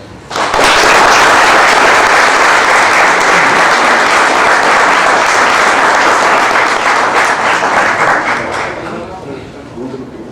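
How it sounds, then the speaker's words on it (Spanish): An audience at a law research institute applauds to welcome a lecturer. Loud, dense clapping starts abruptly, holds steady for several seconds, then fades as it dies down. "yo les pido que lo recibamos con un cordial aplauso."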